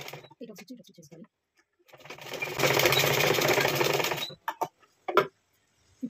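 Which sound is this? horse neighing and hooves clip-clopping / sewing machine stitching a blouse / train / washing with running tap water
sewing machine stitching a blouse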